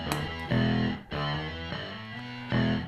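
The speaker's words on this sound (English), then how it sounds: "we're running the synth wah straight up." A distorted electric guitar riff through a synth wah effect, run via a Boss LS-2 Line Selector, repeating chunky chords with a sweeping, filtered tone, loud and alone.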